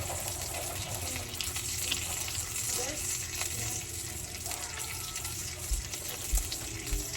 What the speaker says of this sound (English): while my bacon's cooking